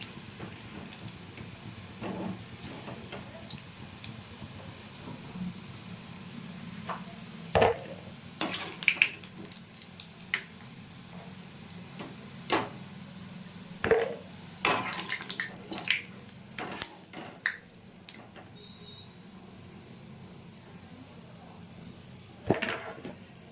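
Flour and sugar sweets frying in oil in a kadai, a faint steady sizzle with scattered clinks and stirring scrapes of a utensil against the pan, no talking.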